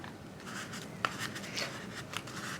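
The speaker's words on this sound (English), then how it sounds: "So we're just going to squeegee the film right up to the tape" A squeegee works vinyl wrap film down to the edge of Knifeless Tape on a vehicle, heard as quiet, close scraping and rubbing strokes with a sharper tick near the middle.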